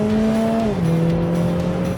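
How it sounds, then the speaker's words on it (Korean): A Lotus Emira 2.0 First Edition with an AMG four-cylinder engine drives past close and loud, its steady humming engine note dipping lower partway through, over rushing road noise. "AMG 엔진이 들어간 에미라는 어떻게 움직이는가 한번 보면요"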